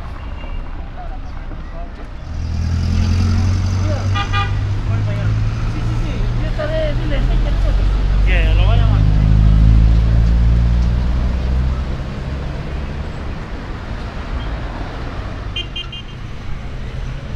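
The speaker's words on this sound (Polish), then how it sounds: "Tutaj nawet ten ruch uliczny jest taki bardziej uporządkowany, nie chaotyczny." Street traffic in Arequipa, Peru: a steady roadway rumble of passing cars and trucks, with faint beeping and a brief horn, while someone talks over it throughout.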